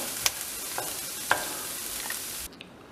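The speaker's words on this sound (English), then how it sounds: "I'm going to add our garlic that's been minced, and then this I want to keep stirring so it doesn't burn at all" Minced garlic sizzling with onion and celery for creamy Reuben soup, a steady close frying hiss broken by a few sharp spoon clicks and scrapes against the pan before it cuts off near the end.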